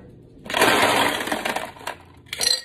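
An ice ball clinks and rattles into a glass cup while a drink is made for an outdoor walk, a close, bright clatter that swells, fades, then returns with a sharp final knock.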